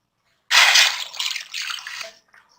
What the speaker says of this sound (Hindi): और साथ थोड़ा सा पानी ऐड कर दूंगी।